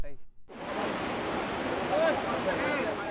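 Broad, steady rushing of a dangerously high river, loud and continuous after a brief quiet start with faint speech.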